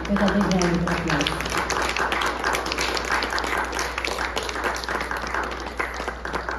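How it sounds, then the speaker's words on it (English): Concert audience applauding after a Carnatic vocal performance with violin accompaniment, a steady dense clapping that starts under a trailing voice and then carries on alone, fairly close and even. "Please bless them with a big round of applause."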